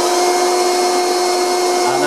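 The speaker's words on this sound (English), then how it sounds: "So you can hear that, that's the first setting for the low power." Bosch 2-in-1 cordless vacuum cleaner running on its low power setting gives a steady, close, loud motor whine with a constant high-pitched tone and no voices.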